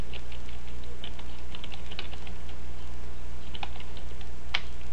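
Fingers tap out a command on a computer keyboard in a terminal, a quick irregular run of close, crisp key clicks over a steady low electrical hum, with no voices.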